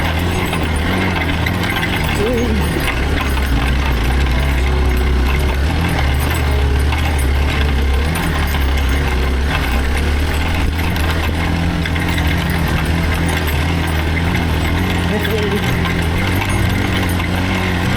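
A Hero Xpulse motorcycle engine runs steadily at low revs on a slow descent of a rough hill, a close, continuous mechanical chug with rattling and clattering from the bike over uneven ground throughout.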